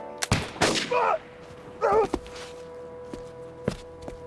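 Pistols fired in a duel give off sharp cracks, one near the start and another later, amid scuffling, brief vocal sounds and a faint background tone.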